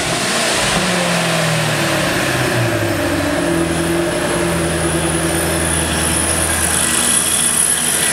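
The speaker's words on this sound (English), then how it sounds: "Have Wyatt give me a couple revs." A car engine idles loudly, then revs a couple of times through a custom exhaust with Corsa tips, a deep, throaty exhaust rumble that rises and falls.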